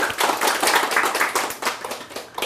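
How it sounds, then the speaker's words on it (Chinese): An audience applauds at a Seth reading-group talk, a dense, continuous burst of many hands clapping that stays steady and loud throughout, with no speech over it. "来，我们给庆和鼓掌一下。"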